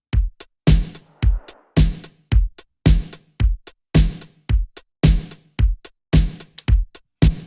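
Punchy eighties-style drum machine samples, booming kicks and sharp snares, repeating in a tight, steady pattern with no talking.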